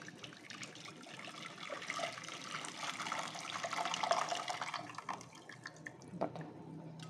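Palm sugar syrup is poured and strained, making a continuous trickling, splashing flow of liquid that swells in the middle and then tapers off, close by and steady.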